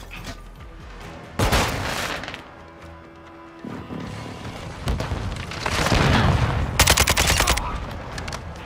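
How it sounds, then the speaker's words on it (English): Airstrike explosions in Call of Duty: Modern Warfare II on the Embassy map: loud, heavy booms and rattling bursts of rapid gunfire come in several surges over a constant background of battle noise. "Hostile airstrike near your location."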